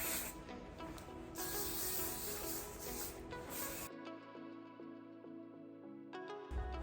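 Hairspray is sprayed over freshly curled hair in a few close, loud hissing bursts lasting several seconds, then it stops and soft music carries on.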